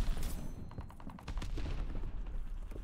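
Rapid gunfire crackles through a Call of Duty: Vanguard multiplayer match in Champions Hill mode, with bursts of automatic shots and impacts fairly close and steady for the whole stretch.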